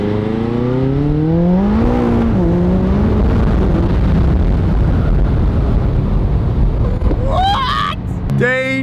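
A sports car engine revs up with rising harmonic pitch, then roars loudly and steadily close by, ending with another sharp rev at the end.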